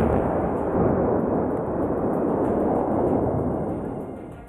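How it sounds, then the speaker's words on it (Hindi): An old bridge, about 80 years old, brought down by explosive demolition: a loud, dense roaring rumble of the blast and collapse that holds strong and then slowly fades. "विस्फोटक लगाकर एक ही झटके में इस पुल को तोड़ दिया गया।"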